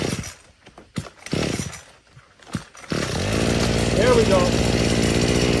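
A gasoline weed whacker, run on fuel made from plastic waste, roars into life after a few seconds of talk and scattered thumps, then runs loud and continuous close by until the end.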